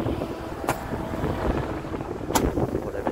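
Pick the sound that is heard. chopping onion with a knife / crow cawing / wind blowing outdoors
wind blowing outdoors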